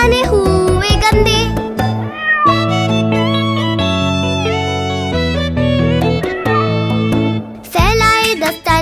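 Hindi children's song about kittens and their dirty mittens, with singers imitating kittens' meows in a bright melodic line over loud backing music.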